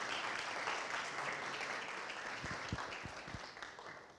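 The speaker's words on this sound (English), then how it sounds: "could we just give Dr. Black a round of applause for her presentation?" A quiet round of applause from the audience after a talk on social media and adolescent anxiety, a soft, steady patter of many hands heard from a distance that slowly fades, with a few closer claps near the end.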